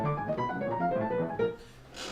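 Solo piano playing the second movement of Carl Vine's Piano Sonata No. 1, with parallel lines in both hands an octave apart, heard as a soft, sustained passage of overlapping notes.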